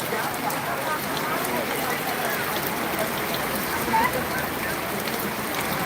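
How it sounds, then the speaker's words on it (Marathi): Light rain falling over a vegetable market in Boisar, Palghar district, a steady even hiss of drops without pause, with faint voices in the background. "आता थोडा हलका पाऊस झालेला दिसतो"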